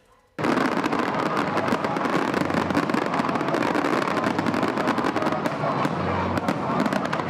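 New Year fireworks over Abidjan explode continuously after a sudden start, a dense, loud barrage of cracks and booms with no letup.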